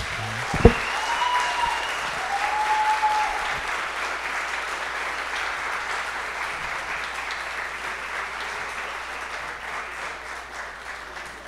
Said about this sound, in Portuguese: Uma salva de palmas aí, por favor.